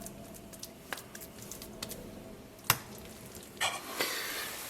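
Mushroom patties fry softly in a pan, a quiet low sizzle broken by a few clicks and taps, rising to a louder, fuller sizzle toward the end.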